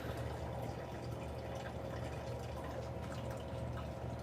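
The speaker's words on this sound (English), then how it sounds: "I don't know if you can hear that. That's water." Water dripping and trickling into a container indoors, with faint gurgling; a steady, quiet trickle continues throughout with no speech.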